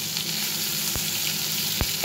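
Tomatoes with sugar, dates and a pinch of salt frying in hot oil for tomato chutney, giving a steady close sizzle with two brief stirring scrapes.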